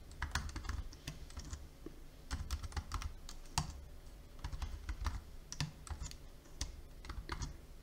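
Keys on a computer keyboard clatter in quick, uneven bursts of typing, close and fairly quiet, with short pauses between runs of clicks.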